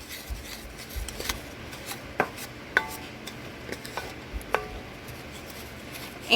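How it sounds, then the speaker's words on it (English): Barbecue sauce ingredients being mixed in a Dutch oven, soft rubbing and scraping of a utensil against the pot with several sharper metallic clinks at irregular intervals, close and without speech. "you want to make sure and mix all these together until they look well combined"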